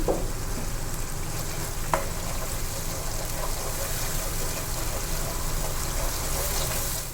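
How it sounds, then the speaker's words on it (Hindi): Tomato masala for Lahori beef paya fries in oil in a pot, a dense continuous sizzle with occasional clinks and scrapes of stirring, close and loud with no talking. "अब अच्छे से इसकी भुनाई करनी है मसाले की।"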